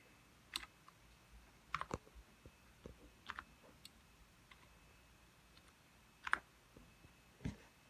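Sparse clicks of a computer keyboard on a new gaming setup tap out a short search, with scattered single keystrokes and small clusters over a quiet background.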